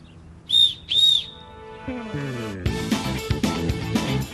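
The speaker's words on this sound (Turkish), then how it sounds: "Düdük çaldığında başlar." Two sharp, shrill whistle blasts ring out in quick succession, followed by a loud burst of music and rhythmic sound effects.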